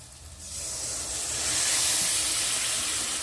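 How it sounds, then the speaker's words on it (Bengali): Homemade coconut milk hitting a pan of well-fried masala for prawn malaikari, setting off a sudden loud hiss and sizzle that swells and holds steadily close by. "এবার আমি আমার বাড়িতে বানানো এটা নারকেলের দুধ এক বাটি দিয়ে দেব"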